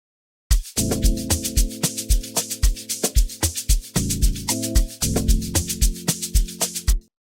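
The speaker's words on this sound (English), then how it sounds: "I'm gonna knock it down an octave with control down" Fruity DX10 E bass synth in FL Studio, dropped an octave lower, playing a simple rhythmic pattern of short punchy bass plucks, loud and steady, with no talking over it.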